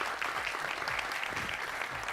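A studio audience applauds for a sister on a comedy talk show, dense and continuous clapping that stays loud and even for the whole stretch.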